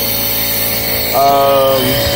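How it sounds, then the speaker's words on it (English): Vacuum pump evacuating the A/C system of a GMT-360 V8 vehicle gives a steady mechanical whine and hum, close and loud, with its pitch and level stepping up partway through. "Now I'm just pulling a vacuum on the system, you know, to make sure all the moisture is out of it"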